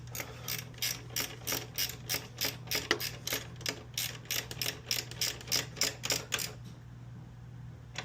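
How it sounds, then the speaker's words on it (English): Rapid ratcheting clicks from a 10mm ratchet wrench tightening bolts and nuts on a Kawasaki ZX-4RR motorcycle, close and loud in a steady series of bursts that stop near the end over a constant low hum. "I'm going to go get a couple 10mm wrenches, tighten up these bolts and nuts on each side"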